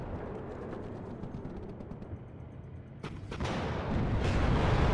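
Tank gunfire in the war game WARNO, with a rumbling battle bed that swells into sharp cracks and heavier booming shots near the end, loud and close.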